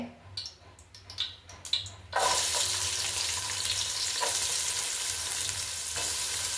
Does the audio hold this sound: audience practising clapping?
no